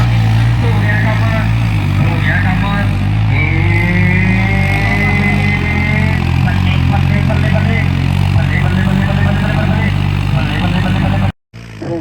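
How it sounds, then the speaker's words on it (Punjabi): A New Holland tractor engine strains hard while pulling a loaded trolley, a loud, continuous low drone that holds steady under voices and crowd noise before cutting off abruptly near the end. "ਦੇਖੋ ਮਿੱਤਰੋ ਧੂਆ ਮਾਰਦਾ ਦੇਖੋ ਲੱਗਦਾ ਜ਼ੋਰ ਦੇਖੋ ਟਰੈਕਟਰ ਤੇ"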